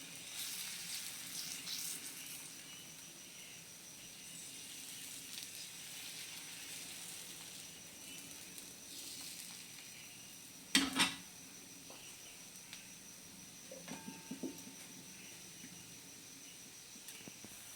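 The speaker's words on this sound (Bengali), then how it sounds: "তেলটা গরম হলে আবারও এক হাতে আমি এর মধ্যে ব্যাটার দিয়ে দিচ্ছি।" Patishapta pitha batter fries in hot oil with a faint, steady sizzle and hiss, interrupted by one sharp metallic clank from a pan or spoon and a few soft taps near the end.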